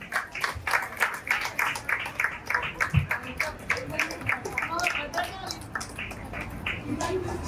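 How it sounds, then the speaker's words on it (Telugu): An audience at a small felicitation ceremony claps in a brisk, steady rhythm, the individual claps close and distinct, with a few voices faintly beneath. "గట్టిగా చప్పట్లు కొట్టండి అమ్మా."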